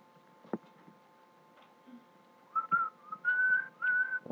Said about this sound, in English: You were whistling.